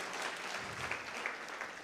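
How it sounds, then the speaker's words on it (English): Audience applause at a national research excellence awards ceremony, honouring the Deputy Minister: a steady, dense wash of clapping from a crowd, moderately loud and sustained throughout without talk. "Another big round of applause to our Deputy Minister"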